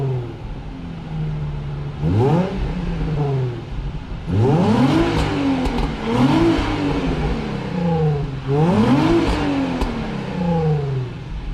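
A car with a loud aftermarket exhaust revs up sharply three times, each burst rising and falling back to a rumbling idle, close and loud with no talking.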